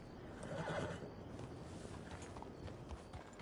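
A horse whinnies once near the start of a Red Dead Redemption II gameplay clip, followed by soft hoof clops and ambient movement, with no talking.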